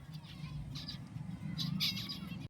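Zebra finches in a large breeding aviary with chicks, many birds chirping and tweeting at once in overlapping bright calls that build toward the end, with no talking over them.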